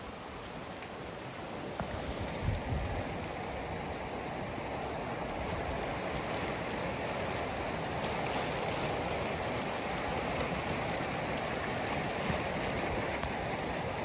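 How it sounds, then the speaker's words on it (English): A flash-flood debris flow off the Pine Gulch Fire burn scar carries big logs and trees, a loud continuous rushing roar of churning water and debris with occasional knocks, steady throughout. "Big time debris flow here off the Pine Gulch Fire burn scar."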